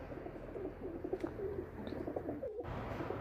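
Soft, low cooing from a pet pigeon with a drying, wasting illness rolls on quietly amid gentle background noise, with a brief chirp-like sound partway through.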